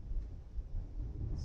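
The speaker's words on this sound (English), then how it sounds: "excuse the thunder we have outside right now." Thunder rumbling outside during a thunderstorm, heard indoors as a continuous low, heavy roll that stays loud throughout, with no voices over it.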